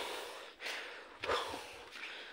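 A person pants heavily while walking on a farm path, with a few quiet, close breaths and sharp exhales, soft against a faint outdoor background.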